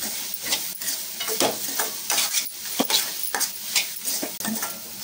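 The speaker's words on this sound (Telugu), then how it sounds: "ఇది మొత్తం కలుపుకోవాలి." A spoon stirs turmeric through food frying in a pan, with repeated scraping and clinking strokes over a steady sizzle, close and fairly loud, with no voices.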